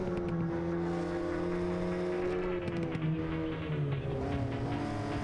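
A car engine in the No Hesi driving game drones steadily with layered, shifting harmonic tones, a muffled sound that stays constant and close, without speech.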